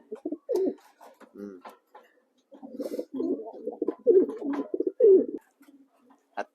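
A pigeon hen coos in repeated low, throaty bursts at close range, irregular phrases separated by short pauses, with faint background sounds.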